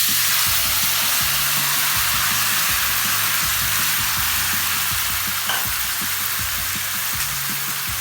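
Chopped tomatoes sizzling in tempered oil over medium heat for a tangy tomato pickle, a steady, close frying hiss with faint pops and clinks of stirring underneath.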